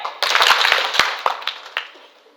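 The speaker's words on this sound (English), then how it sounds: "Third clap!" Hand claps burst out nearby indoors, a quick cluster of sharp slaps with a few louder isolated claps following as the sound fades.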